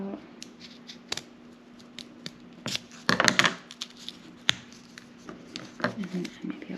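Scissors snip through folded paper for a snowflake, scattered sharp crisp cuts and rustles of handled paper at close range, with a quiet steady hum underneath.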